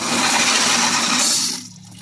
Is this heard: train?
no